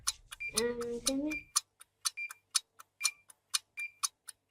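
Clock ticking as a countdown timer, sharp evenly spaced ticks roughly every third of a second, close and clear, with a brief burst of voices near the start.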